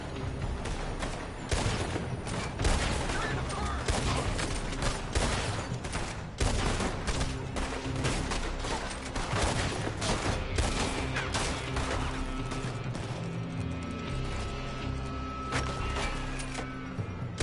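Relentless gunfire from shooters inside a building in Red Dead Redemption, dense crackling volleys of many overlapping shots continuing without pause, loud and close.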